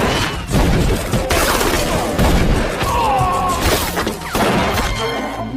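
Dense gunfire rattles through a fierce movie shootout, rapid overlapping shots and crashes in a loud, continuous barrage, with a brief voice or two mixed in.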